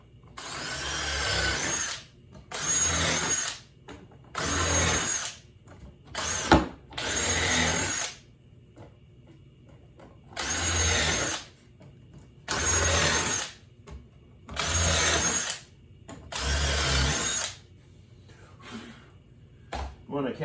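A power drill drives screws into cypress wood bee boxes in repeated short whirring bursts, about nine of them, close and loud, separated by quiet pauses, with occasional speech between the runs.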